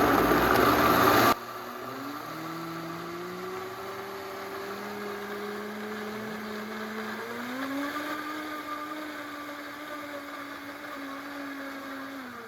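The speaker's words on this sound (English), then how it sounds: "I'm actually going to turn it up full speed in a little bit here." A countertop blender runs at full speed blending vegan nacho cheese, opening with a loud burst, then settling into a steady motor whir whose pitch climbs midway and holds, with no voices.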